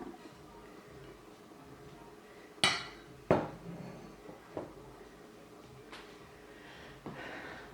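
Vegetables dumped into a cooking pot for chicken and dumplings, a few sharp clanks and thuds of metal and pieces landing, spaced over several seconds, close by and with no talk.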